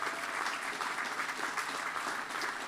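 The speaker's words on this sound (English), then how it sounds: "How about go ahead and clap for your spouses if you got one." An audience at an Army War College graduation ceremony claps for the graduates' spouses, a dense, steady wash of applause that holds at an even level throughout.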